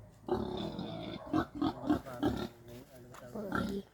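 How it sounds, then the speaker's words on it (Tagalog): Pigs at a rural farm in the Philippines grunt and oink in short bursts close by, mixed with people talking. "Kanina sino may-ari nito mga baboy?"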